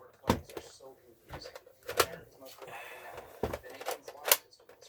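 A Nerf Trilogy DS-15 blaster's shell ejection door flips open and slams shut in a series of sharp plastic clacks and clicks, close and distinct, with a voice talking between them.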